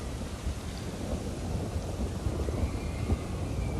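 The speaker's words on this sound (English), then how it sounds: "here comes the storm." Thunderstorm in the theme-park video game Planet Coaster 2: a continuous rumble of thunder and hissing rain, loud and dense, with no talking.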